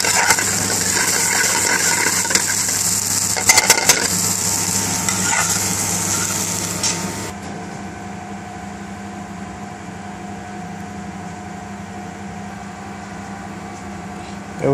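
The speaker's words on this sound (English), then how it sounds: "And mix it all in." Fresh okra bhaji with onion and chopped coriander is stirred and sizzling in a pan, a dense, steady frying hiss with utensil scrapes that drops to a quieter simmer halfway through.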